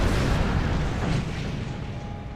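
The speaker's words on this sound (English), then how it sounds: "Their shields are down. Fire torpedoes." Starship torpedoes fire and burst in a Star Trek space battle game, a dense, loud boom and rumble rolling continuously through the moment with no pause, filling the low end throughout.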